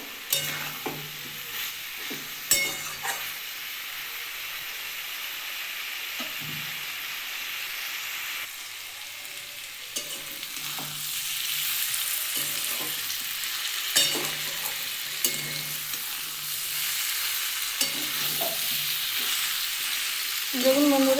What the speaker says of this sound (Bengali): আমি ভালো করে কষবো নাহলে মশলা গন্ধ ছাড়বে